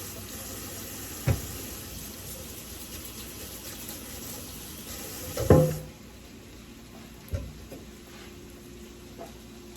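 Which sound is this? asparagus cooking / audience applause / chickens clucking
asparagus cooking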